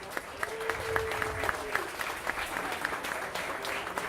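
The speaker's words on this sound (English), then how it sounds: "give these two individuals a big round of applause" An audience at an airport Whataburger opening ceremony applauds steadily, many hands clapping at a moderate distance in a sustained even patter, with a faint voice briefly over it.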